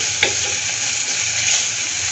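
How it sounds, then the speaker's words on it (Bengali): Spice paste mixed with chopped green chili fries in a pan for a red-sauce pasta, giving a steady close sizzle with a brief clack of stirring near the start. "এখন আমি পেস্টটাকে 1 মিনিটের মতন ভেজে নেব, যাতে হালকা একটু পেস্টটা নরম হয়।"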